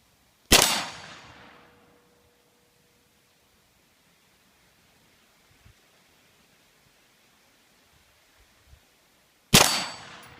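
Two sharp AR-15 rifle shots fired at a target outdoors, loud and close, spaced about nine seconds apart, each followed by a short ringing decay, with faint handling noises between.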